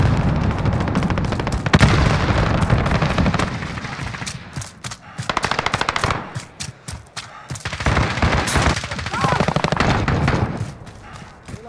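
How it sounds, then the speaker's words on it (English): Rapid heavy blasts and gunfire in the Call of Duty: Modern Warfare video game as a precision airstrike hits, loud dense bursts that come in waves with brief gaps, with game announcer voices at times. "Allied precision airstrike incoming."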